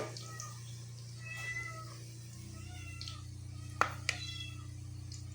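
A cat meows several times, short cries spaced through the moment, faint against a steady low hum, with a soft voice briefly nearby.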